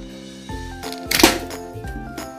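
A homemade traditional slingshot shot strikes a target ten meters away, a single brief thunk over background music.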